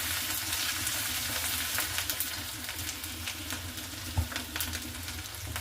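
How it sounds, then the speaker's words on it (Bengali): Chopped ginger and green chili frying in a pan for pabda fish jhal, a quiet steady sizzle with sporadic crackles and light stirring clicks, no talk. "তারপর চপড করে রাখা জিঞ্জার আর গ্রিন চিলিটা খুব ভালো করে ভেজে নিয়েছি।"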